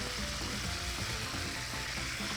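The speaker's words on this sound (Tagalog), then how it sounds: "pwede pa nating ituloy yung pagprito hanggang sa maging golden brown na yung kulay nito" A tanigue fish steak fries in a pan with a steady, even sizzle that holds close and constant throughout, with no talking.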